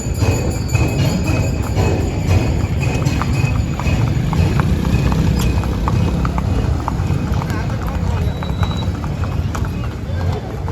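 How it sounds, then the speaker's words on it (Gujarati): Horses walk along a road, their hooves clip-clopping in a steady rhythm from start to end over a constant background rumble. "આપણે પાછા જો ઘર તરફ ઘોડા લઈને નીકળી ગયા."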